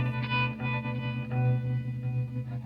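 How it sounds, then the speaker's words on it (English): A sustained electric guitar tone through a Chase Bliss Habit pedal with a wavering, warbling wow-and-flutter pitch modulation, washed in chorus-like shimmer and echo. "It just gives you that kind of wow flutter."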